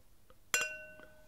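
A wine glass is struck once with a sharp clink, leaving a clear ringing tone that slowly decays in an otherwise quiet room.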